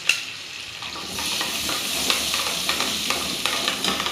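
Mustard seeds and cumin sizzling in hot oil for a Mumbai-style butter pav bhaji, a close steady frying hiss that grows slightly, sprinkled with small popping crackles and stirring scrapes.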